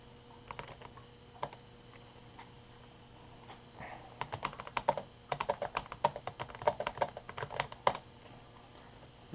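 Typing on the keyboard of a 1992 IBM PS/note laptop: scattered keystrokes at first, then a dense run of quick, shallow clicks, close and alone.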